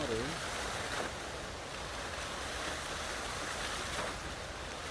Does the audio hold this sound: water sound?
yes